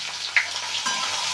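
Onions fry in hot oil with cumin seeds and bay leaf, giving a close, steady hiss of sizzling with one sharp pop near the start.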